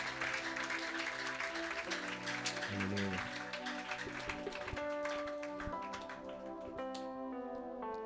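A church congregation at a Sunday healing service applauds steadily, with dense continuous clapping over sustained music throughout.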